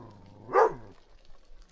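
A stray puppy in the mountains lets out a single short, sharp bark, fairly close and alone, with quiet outdoor ambience before and after.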